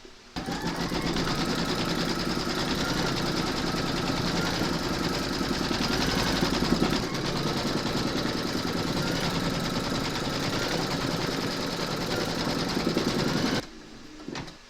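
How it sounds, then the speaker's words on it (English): An embroidery machine runs steadily, stitching gold quilting thread on a moon phases runner, a continuous close mechanical hum with rapid needle rhythm that stops abruptly near the end. "Load your thread colour for the quilting into your machine, and I'm going with gold for this,"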